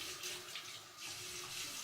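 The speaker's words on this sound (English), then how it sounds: "So it's just warm water." Warm water runs steadily from a tap into a sink, a continuous close splashing rush with no talk over it.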